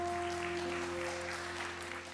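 Audience applause at a live concert, soft steady clapping over sustained tones from a band, fading slightly toward the end.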